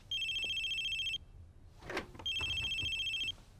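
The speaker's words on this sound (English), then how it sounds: "Just answer the phone." A telephone bell rings in two long electronic bursts separated by a short gap, with a faint knock or shuffle in between. The ringing is clear and fairly close, with no voices over it.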